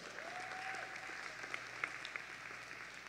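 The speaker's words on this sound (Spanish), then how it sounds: "Denle un fuerte aplauso al Señor." A church congregation claps together in steady, continuous applause for the Lord during a sermon, soft and somewhat distant.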